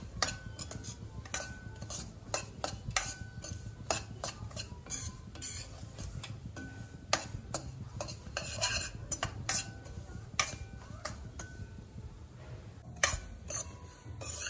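A spoon repeatedly scrapes and clinks against a pan while semolina and dry fruits roast in ghee, irregular metallic stirring taps over a faint sizzle, close and quiet with no talking.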